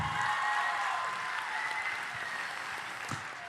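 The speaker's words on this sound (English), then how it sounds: "Let's have a nice round of applause." Dense applause from an audience, sustained and even, slowly tapering off toward the end.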